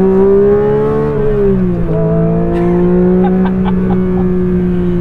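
A 2022 Porsche 911 GT3 engine held at even throttle on a track, a loud continuous droning note that dips briefly in pitch, then settles and holds steady, with no voices.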